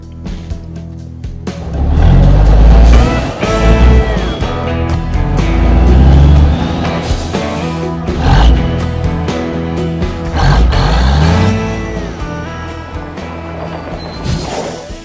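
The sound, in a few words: Peterbilt 379 big rig truck engine starting up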